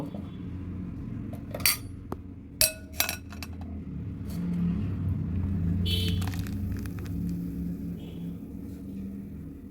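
Metal sieve and utensils clink and scrape against a bowl while blended lychee juice is strained in a home kitchen; a few sharp clinks stand out over a steady low background hum.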